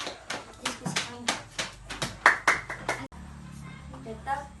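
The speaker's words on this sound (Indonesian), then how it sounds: "Ya, tepuk tangan." Classroom applause during a teaching session: a burst of quick, uneven hand claps from a small group, fairly close, mixed with a voice talking, then tapering off.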